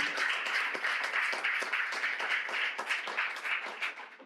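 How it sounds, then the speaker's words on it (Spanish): A live event audience claps steadily for several seconds, a dense, even applause that holds strong throughout and begins to fade at the very end, with no talking over it. "¡Un aplauso!"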